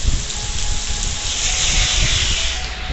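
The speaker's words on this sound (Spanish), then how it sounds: "Acá diluvia. Lluvia, viento." A downpour of heavy rain driven by wind roars as a dense, steady hiss, close and loud throughout without pause.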